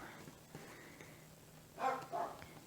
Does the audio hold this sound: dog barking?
yes